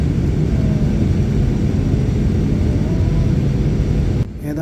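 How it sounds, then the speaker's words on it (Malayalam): An airplane descending to land at an airport in Nigeria fills the cabin with a loud, steady engine roar and broadband rumble that drops off suddenly near the end. "ഏതാനും സെക്കൻഡുകൾക്കുള്ളിൽ നമ്മൾ നൈജീരിയ എയർപോർട്ടിൽ ലാൻഡ് ചെയ്യും കേട്ടോ"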